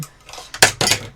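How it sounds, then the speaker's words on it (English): A few quick metallic clatters as tweezers tip over and rattle onto a hard tabletop nearby. "I knocked over my tweezers."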